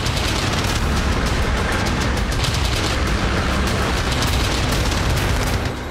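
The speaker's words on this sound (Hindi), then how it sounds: "जल जंगल में घूमकर फायरिंग करता यह है रूसी रोबोट जिसका नाम है कुरियर" A Russian Courier combat robot opens fire on a battlefield, a continuous dense roar of bursts and booms that stays loud and unbroken for several seconds with no voices.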